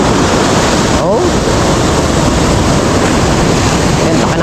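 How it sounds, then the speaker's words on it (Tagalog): Ocean waves surge and wash continuously beside a beach hut on a wooden platform, loud and close, with heavy wind buffeting the microphone and a brief voice. "ang alon"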